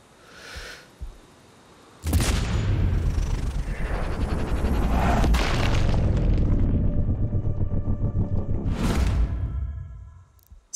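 Explosive sniper rounds in Sniper Ghost Warrior Contracts 2, a heavy boom followed by a long rolling, rumbling blast that fades over several seconds, with a second whooshing burst near the end, loud and close.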